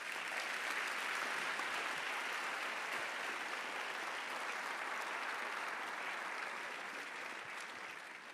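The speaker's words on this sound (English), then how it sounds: "Let's give him a warm round of applause, ladies and gentlemen, Richard D Mccullough." An audience at a university academic-year opening ceremony applauds warmly to welcome a guest speaker, a full, steady wash of clapping from a large hall that tapers slightly near the end.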